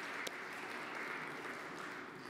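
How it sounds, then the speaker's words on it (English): A room full of people claps in a continuous, moderately loud round of applause, even and sustained with no voices over it. "A round of applause."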